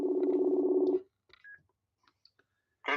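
A telephone tone sounds steadily for about a second while calling someone, then gives way to near silence with a few faint clicks and beeps before another burst at the end.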